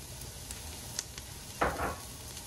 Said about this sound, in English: I'm throwing in the chorizo.